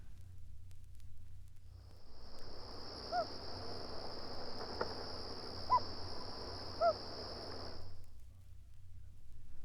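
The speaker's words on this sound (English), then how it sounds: "The hoot." Soft, short common loon hoots sound a few times at a distance. A steady, high insect-like drone and low background noise run underneath them.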